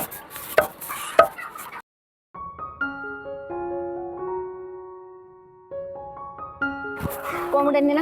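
Freshly cut grass is chopped by hand into small pieces for chickens, with a few sharp, close chopping strokes at the start and end and music playing through the middle.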